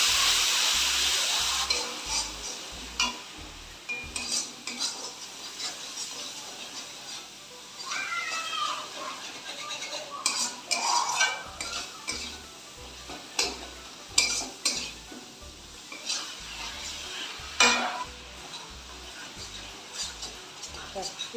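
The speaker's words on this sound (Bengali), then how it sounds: "এবার সামান্য করে একটু জল দিয়ে এগুলোকে কষিয়ে দিই" Spices stir-fried with a splash of water in a pan for a duck egg curry, giving intermittent scraping and stirring strokes over a soft sizzle, close by, with a few quiet pauses and no talking.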